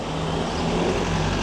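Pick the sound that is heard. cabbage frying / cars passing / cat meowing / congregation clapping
cars passing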